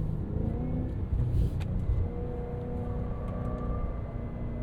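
A 2025 Cadillac Escalade V with a 682 hp supercharged V8 pulls hard, a deep steady engine rumble heard close from inside the cabin, with a brief swell near the start and no voice over it.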